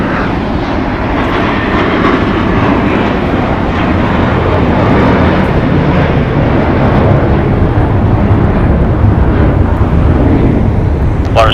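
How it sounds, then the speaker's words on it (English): An American Airlines Airbus A321 jet departing LAX produces a loud, steady broadband engine roar that persists throughout without letting up. "Departing here is American Airlines Flight 2837 going to Charlotte. It's an Airbus A321."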